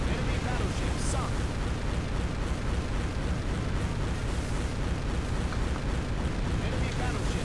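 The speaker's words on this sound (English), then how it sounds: "Enemy battleship sunk." A continuous loud roar of explosions and gunfire as an enemy battleship blows up and sinks in Warship Gunner 2, dense and unbroken throughout, with a voice under the din.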